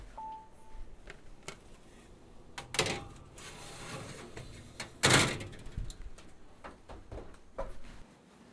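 A baking tray slid into a home oven, followed by the oven door swinging shut with a couple of sharp knocks and clunks, moderately close against a quiet kitchen.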